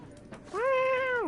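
A cat in The Witcher 3 video game lets out a single short, loud, rising-then-falling meow, close and clear, following a brief quiet stretch of soft background noise.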